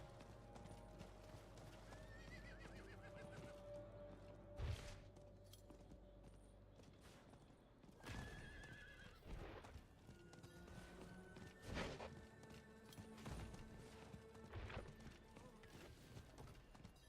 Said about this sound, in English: Run, horsey. Don't get tired.